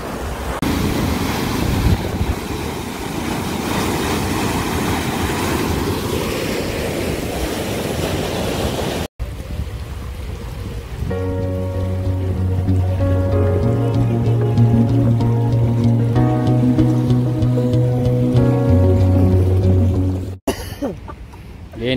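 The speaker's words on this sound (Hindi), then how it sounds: "ये पानी नीचे की तरफ गिर रहा है ताकि पानी और तेज हो" Water rushes down a drop in a canal that carries drinking water toward Karachi, a loud, steady outdoor roar with wind for several seconds, then giving way to a droning, tonal engine-like hum.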